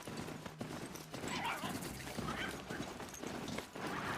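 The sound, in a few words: horse hooves clip-clopping in the Horizon Zero Dawn video game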